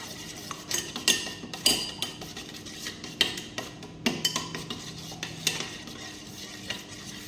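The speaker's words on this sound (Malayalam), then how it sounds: "നമുക്ക് മുളക് ഇടാം. നമ്മൾ അങ്ങനെ ഇളക്കി കൊടുക്കുക." Spoon stirring chili and onion into an omelette mixture in a pan, with a steady run of scraping, clinking strokes against the metal over a light sizzle, close and moderately loud, no talking.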